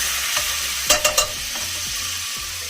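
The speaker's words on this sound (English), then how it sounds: "Next, I want to add some wine for a little flavor." Wine poured into a hot pan with shrimp and scallops gives a steady, close sizzle and frying hiss, broken by a few quick scraping stirs near the middle.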